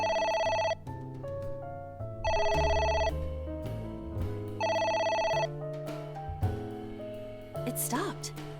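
A phone in the video game AI: The Somnium Files rings insistently, bright electronic ringtone bursts repeating in a regular pattern with short gaps, loud and alone.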